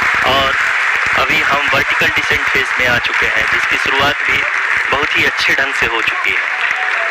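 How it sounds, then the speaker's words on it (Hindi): Applause and cheering fill the mission control room during the Chandrayaan-3 lunar landing, a steady wash of clapping kept under a commentator who talks continuously over it. "आप तालियों के गड़गड़ाहट से सुन सकते हैं"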